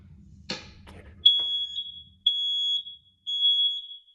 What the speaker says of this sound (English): now we're going to test our last smoke and CO detector